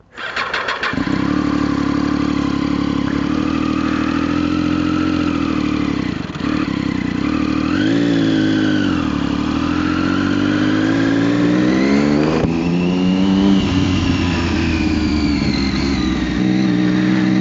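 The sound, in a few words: motorcycle engine starting and riding off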